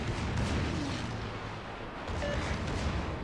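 Battleship secondary guns firing in the World of Warships naval game, a heavy continuous rumble of booming shots layered close together, loud and dense with a brief dip midway, no talk over it.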